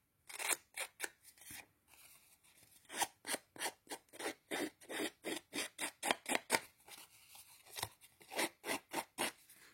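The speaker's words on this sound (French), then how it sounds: "Donc là, je le fais avec la lame de ciseaux." A scissor blade scrapes rapidly along paper edges to distress them for a handmade mini album, a steady run of crisp rasping strokes with a brief pause near the start, close and fairly quiet.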